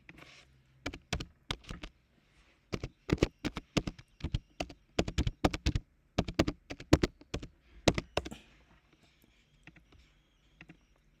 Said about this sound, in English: Okay, let me just type it in.